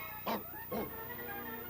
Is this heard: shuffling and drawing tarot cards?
no